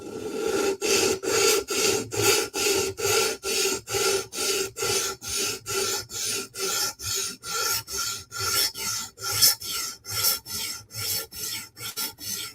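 Rhythmic rasping strokes of a 15V steel Spyderco Military 2 knife drawn across a sharpening stone, about two strokes per second in an even repeating pattern, close and clear with no speech.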